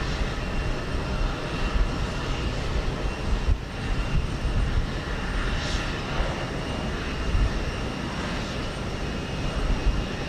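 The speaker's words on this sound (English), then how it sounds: "So the United 757 getting the jump on this Spirit Flight 255 going to San Salvador" A United Boeing 757 jet at Houston Intercontinental produces a sustained, rumbling engine roar with a steady broadband wash, moderately loud and unbroken throughout.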